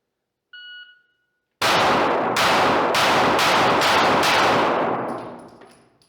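Several rapid rifle shots fired one after another at an outdoor shooting range during a takedown lever test, loud and close, with a brief beep just before the burst and the last report fading out.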